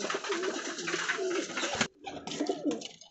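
Desi parwazi (high-flying) pigeons coo steadily and close by, with soft rolling calls throughout, a brief pause near the end, and then renewed cooing.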